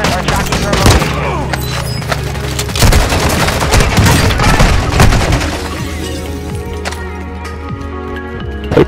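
Close, loud automatic gunfire from RPK and Lachmann Sub weapons and booming grenade explosions fill a Call of Duty Resurgence match on Ashika Island, rattling almost nonstop before easing slightly toward the end.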